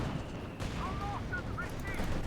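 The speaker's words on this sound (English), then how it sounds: "Double Flak Panzers unleashing a torrent of flak fire." Company of Heroes 2 battle: a dense, continuous crackle of flak and gunfire from Flak Panzers rattles on in the background while a caster talks over it.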